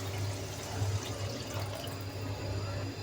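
Water is poured into a cooking pot of sautéed lentils with Malabar spinach, a steady, even splashing rush that runs for about three seconds with no voices over it.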